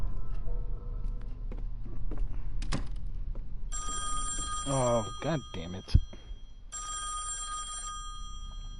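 Telephone bell ringing in the horror video game Song of Horror, a bright electronic ring repeating in bursts over a low ambient drone, with someone talking and a sharp thump partway through.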